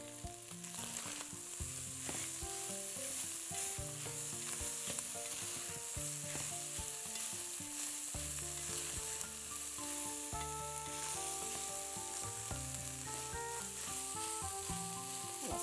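Minced meat fries in a pan with a constant, busy sizzle and occasional stirring, while music plays quietly underneath; no one speaks.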